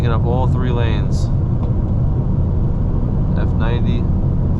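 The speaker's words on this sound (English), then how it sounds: "look at all these cars taking up all 3 lanes" Heavy traffic fills three highway lanes during a BMW rally toward Miami, a loud, constant road rumble heard from inside a moving car, with passing whooshes and brief voices talking over it.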